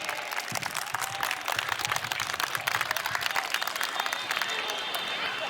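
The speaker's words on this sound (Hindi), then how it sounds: "सभी का स्वागत जोरदार तालियों से होना चाहिए।" A crowd at a school annual sports day, held outdoors in sunshine, breaks into strong welcoming applause, sustained clapping with crowd murmur throughout and a few individual claps standing out.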